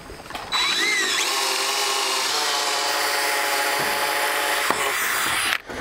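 Cordless impact driver fitted with a 9/16 socket runs bolts in while assembling a Shadow Hunter hunting blind, giving a loud, steady whirring and rattling hammer that carries almost nonstop for several seconds before cutting off near the end.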